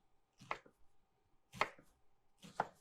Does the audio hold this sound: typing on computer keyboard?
no